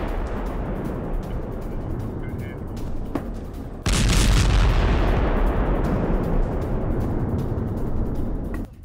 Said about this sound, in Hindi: रोशनी कर हमास लड़ाकों पर की गोलीबारी